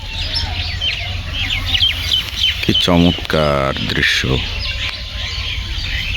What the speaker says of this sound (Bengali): হাজার হাজার পরিযায়ী পাখির সমাহার এই অরুণিমা রিসোর্টে